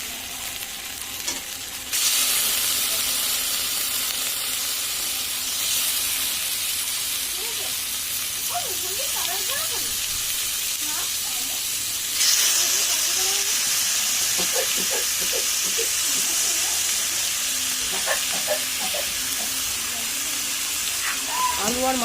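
Loti fish and potatoes tipped into a hot pan with tomatoes, setting off a loud hissing sizzle that swells twice, with stirring scrapes and a voice talking over the cooking.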